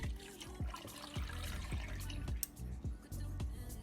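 Iced latte pours into a cup of Dollar Tree caramel frappe mix, a close, continuous liquid gurgle and trickle with small dripping splashes throughout.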